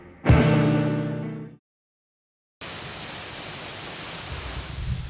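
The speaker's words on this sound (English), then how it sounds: "waterfalls" A Bali waterfall: a short tonal sound and a moment of silence give way to a steady, dense roar of rushing water that continues evenly to the end.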